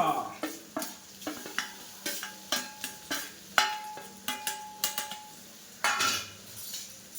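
Mustard seeds and green chilies fry in a pan with a soft sizzle under repeated metal scrapes and clinks of a spoon stirring in a steady rhythm, close and fairly quiet.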